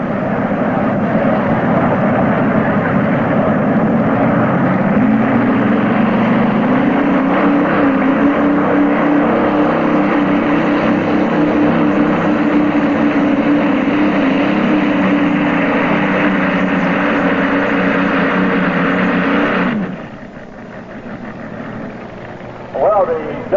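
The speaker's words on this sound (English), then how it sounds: "the twin aircraft engine, the Allison aircraft engine made a great run here this afternoon" A 1992 unlimited modified race car powered by twin Allison aircraft engines roars loudly and steadily for about twenty seconds at a Bowling Green, Ohio track, then cuts off abruptly, with an announcer talking over it.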